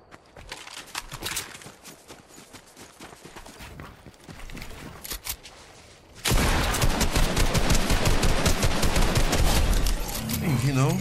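Automatic weapon fire in Fortnite, a rapid continuous stream of shots that jumps much louder midway and keeps going steadily, with game sounds around it.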